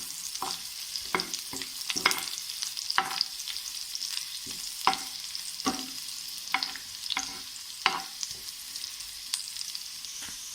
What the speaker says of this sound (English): chopped green chili pieces, and let's fry this for a while.